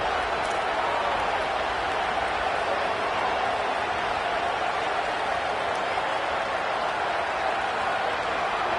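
Stadium crowd noise from a College Football 27 game between Miami and Penn State, a steady loud roar of cheering that holds at constant volume throughout without a break.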